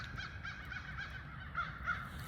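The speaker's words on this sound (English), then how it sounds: "I want to say they're crows." Several crows caw in the distance, harsh calls repeating over a low background rumble.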